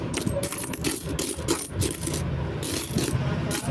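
Indian Republic-era coins, including 20-rupee pieces, clink and jingle as they are sorted and counted by hand, a close, continuous run of bright metallic taps and scrapes.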